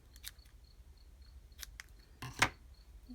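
Scissors trim the ends of a small ribbon bow for a greeting card, giving a few faint, quiet snips scattered through a hushed room, the last cut a little crisper, with no talking.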